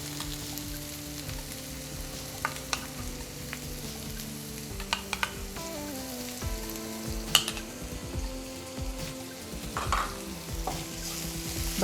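Butter fries quietly in a pan for paneer butter masala, a soft, fairly faint sizzle with clinking utensil taps and stirring scrapes scattered throughout, no one talking.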